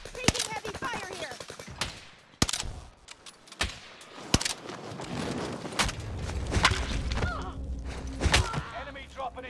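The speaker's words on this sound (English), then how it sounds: "Taking heavy fire here." Heavy video game gunfire crackles in sharp, irregular bursts and rapid machine-gun volleys, loud and close, with scattered thuds and a voice talking between shots.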